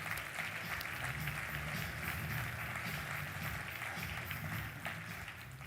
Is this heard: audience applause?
yes